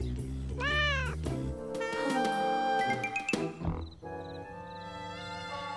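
A cartoon cat gives a rising, wavering meow, followed by a sustained tonal cry that slides and fades, with music and voices around it.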